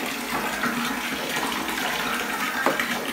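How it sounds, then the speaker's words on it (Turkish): Water pouring over a baby at bath time: a steady, loud rush of splashing water running without a break, close by. "Dök kızım, dök. Suları dök."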